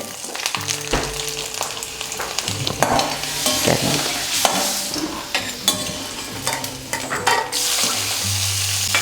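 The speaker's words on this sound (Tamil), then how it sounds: "பிரண்டையை வந்து நம்ம நல்லா எண்ணெயில் நல்லா வதக்கிக்கணும்." Veldt grape (pirandai) sautéing in hot oil, a steady close sizzle broken by repeated scrapes and clatters of a spatula stirring the pan, with no one talking.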